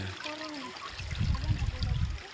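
Water trickles and flows at a landslide site in Manupak, a low churning burble rising midway, with faint voices talking in the background.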